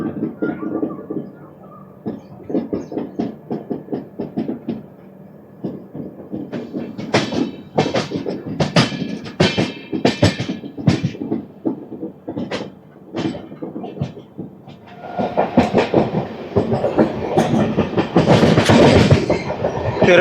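The Venkatadri Superfast Express, hauled by a WAP electric locomotive, runs past with steady rhythmic wheel clatter over rail joints that swells into a loud, dense roar of rolling coaches near the end.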